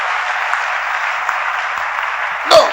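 A church congregation at a sermon applauds for the Lord, a steady, moderately loud wash of clapping that ends in a sudden sharp bump.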